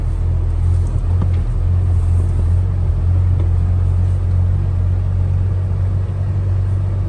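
A car engine pulling in second gear while driving on sand, heard from inside as a close, steady, deep rumble that holds evenly throughout.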